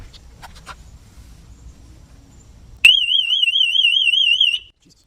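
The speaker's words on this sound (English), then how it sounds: "That was a blooper. Just set the alarm off." An electronic alarm suddenly bursts on, near and loud, with a rapidly warbling siren tone that runs for under two seconds and then stops abruptly, after quiet background rumble.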